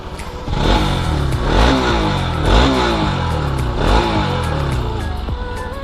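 A Bajaj NS200 BS4 motorcycle engine, loud and close, revs hard three times in a row over a steady rumbling idle, with no talking.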